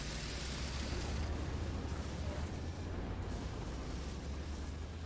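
A continuous, dense roar of explosions and weapon fire from a battle in Mental Omega, the Red Alert 2 mod, holding loud and steady with no pauses.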